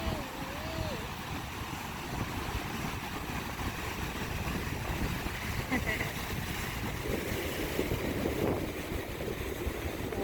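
Big Pacific ocean waves rolling in along the Oregon coast near Sea Lion Caves and Thor's Well, a steady roar of surf and wind noise, with occasional voices beneath.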